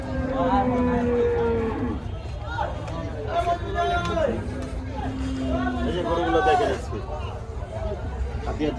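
Cattle moo repeatedly at a busy livestock market, with long drawn-out lowing calls overlapping one another. A crowd murmurs and people talk throughout.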